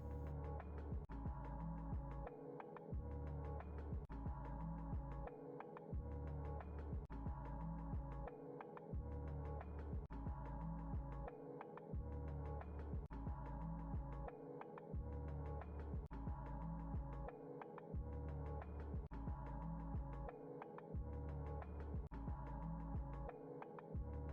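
A washing machine running in the video game SchoolBoy Runaway, a low steady hum with a rhythmic throbbing drum cycle that repeats every few seconds, faint and continuous without talk.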